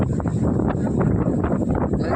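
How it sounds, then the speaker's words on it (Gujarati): Strong wind during a storm with lightning buffets the microphone in a continuous low roar with gusty rumbling throughout. "પવન અમારા ફોન નથી પકડાતો એટલો પવન ને વીજળી થાય"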